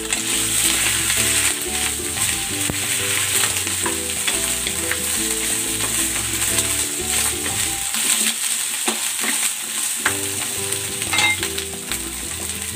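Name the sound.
okra sautéing in a pan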